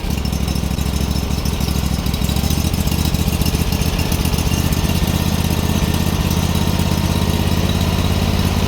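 A Bolens HT-23 garden tractor engine runs steadily with one cylinder fouling, giving a loud, close, continuous chugging drone with an uneven, slightly rough pulse throughout.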